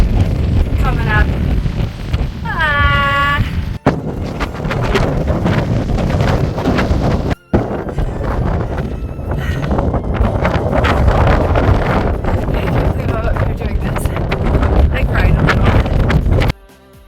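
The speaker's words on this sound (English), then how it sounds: "I could really do without this wind on this ridge hike coming up" Strong wind gusting against the microphone on an exposed mountain ridge on the Via Dinarica White Trail near Konjic, a loud constant roar for the whole stretch with a brief drop near the middle, while a person talks over it.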